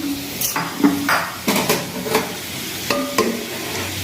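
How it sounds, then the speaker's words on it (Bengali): Gobindobhog rice and mung dal being stirred in a pot, several distinct scraping and clinking strokes of a spoon against metal over a light sizzle, no talking. "এই গোবিন্দভোগ চালটা আর মুগ ডালটা আবার একটু নাড়িয়ে নিই ভালো করে"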